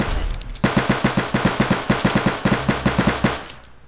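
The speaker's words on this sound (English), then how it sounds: "I'm gonna use this shotgun" Rapid automatic gunfire from a shotgun in a Flag Wars video game, about twenty evenly spaced sharp shots in a fast steady rhythm, loud and close, with no talking.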